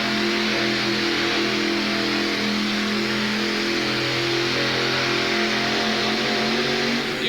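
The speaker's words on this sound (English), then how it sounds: "that motor has sounded better than anything we've seen so far tonight" A Dodge pulling truck with a big motor roars and revs hard during a 1988 USHRA truck and tractor pull in Denver, loud and continuous for the whole stretch.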